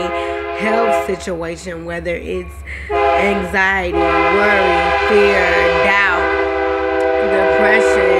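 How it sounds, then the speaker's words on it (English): A passing train sounds its horn in long, sustained blasts with several tones, loud and close, under a man preaching a sermon who keeps talking through it. "please excuse the train."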